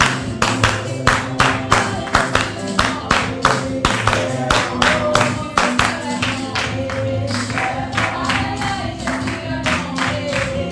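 A church congregation clapping in steady rhythmic unison during a worship service, loud and continuous with sustained music or singing beneath and a voice occasionally rising over it.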